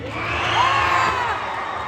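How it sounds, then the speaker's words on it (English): A VidCon panel audience cheers and whoops together in a loud, swelling crowd roar, with individual high yells rising above it for about two seconds. "everybody cheer"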